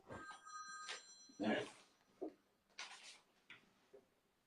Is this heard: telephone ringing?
yes